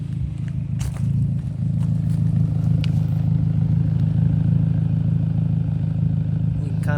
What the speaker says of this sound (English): Listen to the exhaust.